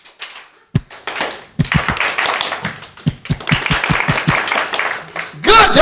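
An audience at a confidence summit claps along in a rhythmic pattern, sharp hand claps arriving in quick groups and bursts with short pauses between, ending in a louder swell of applause.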